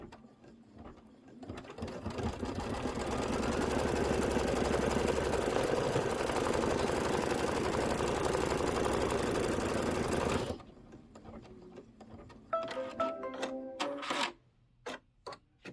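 Embroidery sewing machine stitching a placement line for a leather pocket pillow piece, a steady loud mechanical whir for about ten seconds, then stopping, followed by a few clicks and short beeps.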